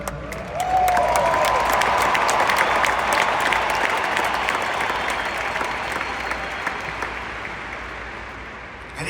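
Big crowd at the Charlie Kirk memorial breaking into sustained applause and cheering, a broad dense roar of clapping that swells quickly, holds, then slowly tapers, with scattered shouts and whistles.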